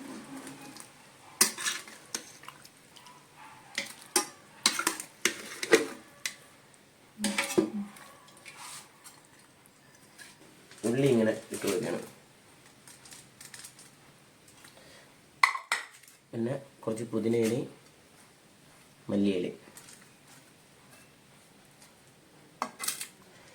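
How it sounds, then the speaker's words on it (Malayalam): Prepared chicken pieces added a little at a time into a pot of Onam dum biryani, with clinking of a metal spoon against the pan in short bursts and scraping between pauses, close and moderately loud. "റെഡിയാക്കി വെച്ചിരിക്കുന്ന ചിക്കൻ കുറച്ച് കുറച്ച് ഇങ്ങോട്ട് ഇട്ട് കൊടുക്കും"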